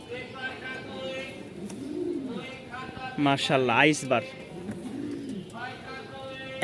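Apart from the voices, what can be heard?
pigeons cooing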